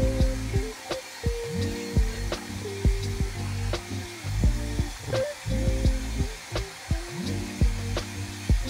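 Heat gun blowing a steady hot-air roar while protective film is wrapped onto a bicycle frame, with repeated squeaky rubbing and crinkling bursts as the film is worked down.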